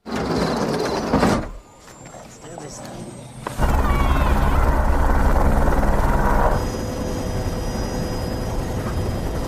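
A helicopter flies over remote Congo jungle: a loud, steady rotor and engine roar swells in after a quieter stretch and holds, thinning slightly toward the end, with a voice talking over it.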